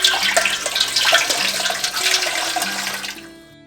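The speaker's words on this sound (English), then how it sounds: "Once we have our beeswax in the pot, next is to add the water." Water pours steadily from a tap into a pot holding beeswax, a loud, continuous rushing splash that stops abruptly at the end.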